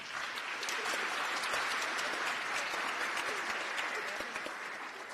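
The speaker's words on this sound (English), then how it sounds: "Let's thank our ushers for their service with another round of applause." An audience at a Martin Luther King Jr. memorial breakfast applauds the ushers, a steady wash of clapping from a large room that holds level for several seconds before easing slightly toward the end.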